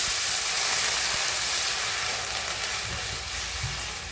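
Chunks of kohlrabi, already fried for a fish sour curry, sizzle in a pan as water is added, giving a loud, steady hissing fizz that fades slightly toward the end, with no voices.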